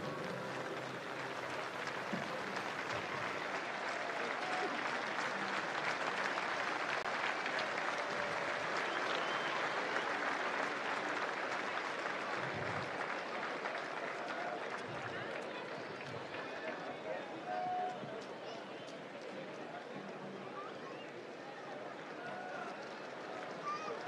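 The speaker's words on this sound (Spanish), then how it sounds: "recibámosla con un fuerte y cariñoso aplauso" Sustained crowd applause fills a stands at a national rodeo championship during the queens' presentation, a dense steady roar of many hands clapping that holds for the whole stretch and eases slightly near the end.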